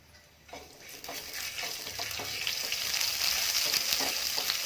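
Ajwain seeds frying in hot melted ghee, a steady close sizzle that builds and thickens over several seconds, with faint scattered stirring taps.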